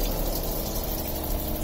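A water pump runs with a 12-litre boiler heating hot water inside a Ford Transit high-roof van conversion, a loud, steady rushing hum with water flow that continues unbroken.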